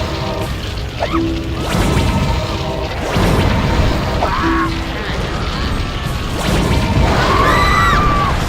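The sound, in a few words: explosion and rumble in the video game Black & White 2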